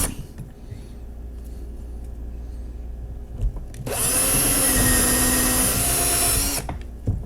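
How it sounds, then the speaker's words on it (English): A power drill bores into posts in a steady, loud whine lasting a few seconds after quieter handling noises, then stops. "I can drill without having to worry about going through the other side"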